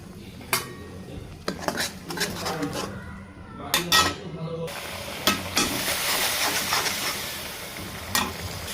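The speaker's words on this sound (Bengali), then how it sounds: "মশলাটাকে 5 মিনিট ভালোভাবে কষিয়ে নেব।" Spices with turmeric, chili powder and salt stir-fried for a beef curry with potatoes, with clattering spatula scrapes and clinks against the pan over a sizzle that grows louder and steadier midway.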